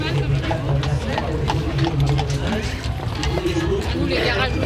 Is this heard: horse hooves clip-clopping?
yes